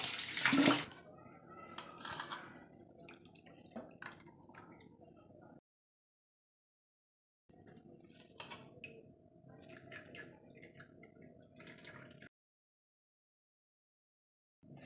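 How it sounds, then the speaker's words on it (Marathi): Dill leaves are rinsed in a sink under a running tap, the water splashing and dripping steadily in two bursts with a pause between, fairly faint and close, with no talking. "तर आता आपण या भाजीला स्वच्छ नळाखाली धुवून घेऊया।"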